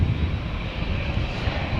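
A KLM Boeing 787-10 Dreamliner, PH-BKI in regular livery, departs Amsterdam Schiphol for LAX with a loud, continuous jet-engine roar close by and no talking.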